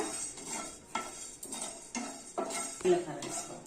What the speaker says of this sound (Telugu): ధనియాలు వేసి లైట్గా దూరగా వేయించుకోవాలి మాడకుండా కలుపుతూ వేయించుకోవాలంట